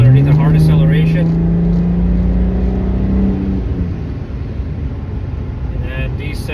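A 2011 BMW 335d diesel with its muffler deleted pulls hard at highway speed. The loud exhaust tone climbs steadily, then drops away into a softer rumble, with a voice briefly heard at the start and end.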